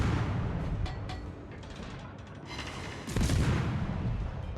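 Warship guns firing in a naval battle video game, targeting an enemy Renown: heavy booming salvos and mechanical clatter, a loud burst near the start and another surge about three seconds in, with no talk.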